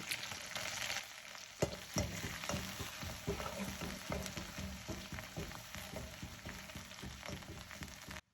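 Small shallots and curry leaves frying in a pan for a jackfruit dish, with a steady close sizzle broken by repeated clinks and scrapes of a stirring spoon, continuous and fairly loud with no talking.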